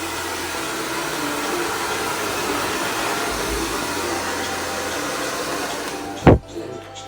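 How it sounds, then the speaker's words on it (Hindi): A hair dryer on a cool setting blows over freshly ironed hair waves, giving a loud, steady, whooshing roar up close that cuts off with a sharp click near the end, leaving quiet. "आयरन करने के बाद उसके ऊपर ठंडा ड्रायर लगा दें ताकि वो अपनी शेप निकल जाए।"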